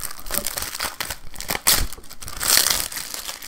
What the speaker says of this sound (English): Gotta rip it apart.